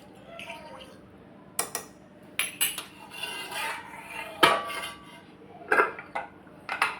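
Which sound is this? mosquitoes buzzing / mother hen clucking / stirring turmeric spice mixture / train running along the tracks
stirring turmeric spice mixture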